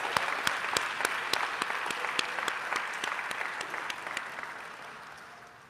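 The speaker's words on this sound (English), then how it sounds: "let's give them a big round of applause." An audience at a Caribbean heritage celebration applauds with steady, dense clapping that holds for several seconds and then slowly fades, at a fair distance.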